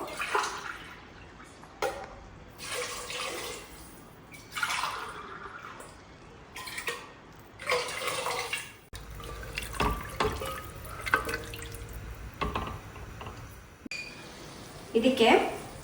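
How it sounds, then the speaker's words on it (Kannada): About three and a half glasses of water go into a pot for cooking rice, heard as several separate bursts of pouring and splashing with short gaps between them, fairly quiet and close. "ನಾನಿಲ್ಲಿ ಮೂರುವರೆ ಗ್ಲಾಸ್ನಷ್ಟು ನೀರನ್ನ ಹಾಕ್ತಾ ಇದ್ದೀನಿ"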